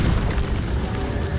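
A fire-blasting spell bursts in the Hogwarts Legacy video game as a loud, deep, rumbling explosion that fills the whole brief moment with dense low-end roar and crackle.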